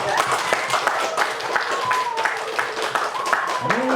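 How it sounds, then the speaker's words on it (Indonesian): Audience at a book discussion held at an Indonesian Islamic boarding school breaking into applause, a sustained crowd clapping with scattered whistles and voices mixed in underneath. "Boleh tepuk tangan aja."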